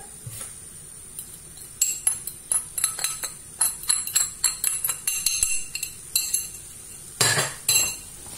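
A utensil scrapes and clinks against a pan in quick, irregular strokes while eggs are stirred with parsley and coriander. The metallic taps are close and clear, with no talk over them.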